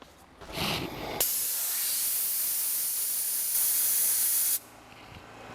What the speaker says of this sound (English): then I'm gonna come back again with compressed air.